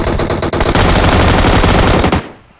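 Rapid automatic gunfire in PUBG on the Novorepnoye map bursts loud and close for about two seconds in dense repeated shots, then cuts off abruptly, with no talking.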